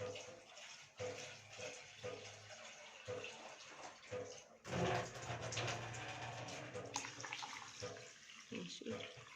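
Water pours into a pan of chicken and rice in a home kitchen, a steady splashing flow with gurgles and a brief pause partway through, close by, with some talking over it.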